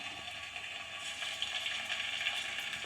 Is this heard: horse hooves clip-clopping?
no